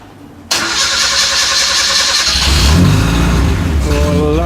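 A 1955 Morris Minor Series 2 ute engine cranks briefly, fires and settles into a loud, lumpy idle right up close, with a slight rev.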